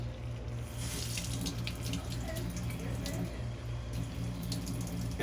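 Kitchen tap running water into a pot or bowl while cooking, a steady close splashing flow that continues throughout without pause.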